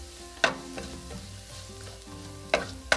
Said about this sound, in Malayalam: ഉള്ളിയും മുളകും ചേർത്ത് 1-2 മിനിറ്റ് വഴറ്റി